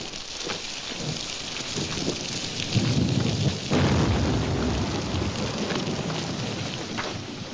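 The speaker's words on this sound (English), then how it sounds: "Can't see nothing in this rain." Heavy rain pours steadily in a western film scene, a dense close hiss with low rumble swelling midway, with no voices over it.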